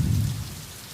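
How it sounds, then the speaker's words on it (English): Heavy rain and thunder as a sound effect: a dense wash of pouring rain with a low rumble of thunder that is loudest at the start and eases off after a moment. "That cold, dark rain kept pouring, just like in my heart."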